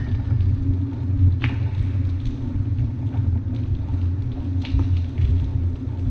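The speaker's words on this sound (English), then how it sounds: "I hear thunder." Distant thunder heard from inside an abandoned Pennsylvania Turnpike tunnel, a continuous low rumble rolling throughout with faint scattered background noises.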